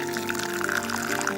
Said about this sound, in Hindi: एक बड़े बोल में, किसी भी बड़े बर्तन में आप ये कपड़ा बिछाएं और ये पका हुआ पनीर इसमें डाल दें।